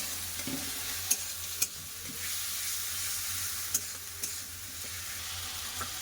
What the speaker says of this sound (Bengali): টমেটো কুচি লবণ দিয়ে ভালো করে পেঁয়াজের সাথে ভেজে নেবো টমেটোটা